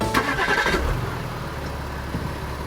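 Car engine starting, a brief loud cranking burst that catches within the first second, then settles into a low steady idle rumble, close by and without talk.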